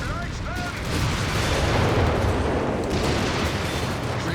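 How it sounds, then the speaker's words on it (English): Heavy artillery from a Sturmpanzer in the World War II strategy game Company of Heroes 3, a dense rumbling battle din of booms and blasts rolling continuously through the whole stretch, with a commentator's voice faintly under the noise. "Great shot there from the Sturmpanzer."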